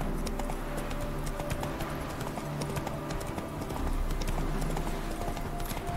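Hooves of the horse Roach clip-clopping in The Witcher 3, a quick repeated trotting beat over a soft game background, fairly close and steady for the whole stretch.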